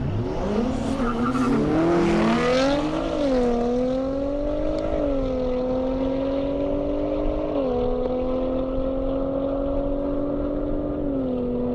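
Ford Mustang race car at an airstrip drag event, engine revving hard and climbing through quick gear changes, then settling into a long steady high-pitched roar that fades slowly into the distance.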